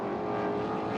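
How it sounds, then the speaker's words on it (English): Street stock cars race at night on the Irwindale Speedway short track, a brief burst of strong engine roar with a steady droning pitch, loud and close. "Now this is short track racing. This is street stocks."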